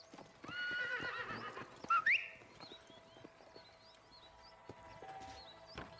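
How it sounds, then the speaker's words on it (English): A horse in the Red Dead Redemption video game whinnies sharply over a steady run of hoofbeats, with birdsong chirping faintly in the open-country background. "I can actually whistle for my horse now."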